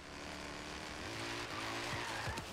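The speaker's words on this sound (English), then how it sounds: "Car sound, yeah, it does. It sounds pretty cool." A race car in the driving game Forza Horizon 3 roars steadily with engine drone while tires screech and skid through a turn, loud and continuous throughout with no voices over it.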